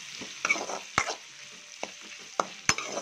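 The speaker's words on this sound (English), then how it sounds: "Saute it well until onion becomes golden brown." Sliced onions sizzle steadily in a hot pan, sautéing toward golden brown, with sharp clicks of a spatula stirring every second or so, close up and without speech.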